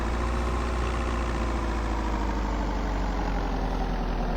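A vehicle engine idles in the video game VEIN, a constant low, droning rumble that holds steady and alone throughout.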